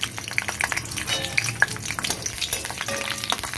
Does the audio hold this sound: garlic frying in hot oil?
yes